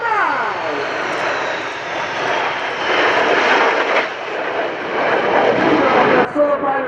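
MB-339 military jet trainers fly past at the RIAT 2016 airshow at Fairford, a loud, sustained engine roar that swells and shifts as they pass overhead.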